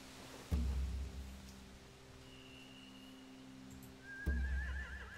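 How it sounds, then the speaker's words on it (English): Horses whinny in The Walking Dead video game, with a pair of sharp, close neighs separated by a few seconds and a faint whistle-like tone drifting underneath. "They have horses."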